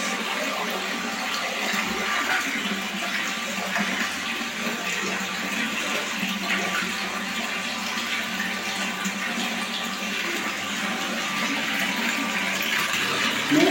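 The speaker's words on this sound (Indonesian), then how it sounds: "Ini airnya keluar dengan lancar." Water pours steadily out of a cheap homemade water filter, a constant rushing splash with no pauses, fairly loud and close.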